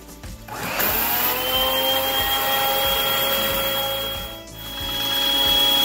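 A 1969 Hoover Floor-A-Matic rug and floor conditioner powers on and its bristles spin at a steady whirring, motor-driven hum. The sound is loud and close, rising quickly at startup and holding constant with no talk.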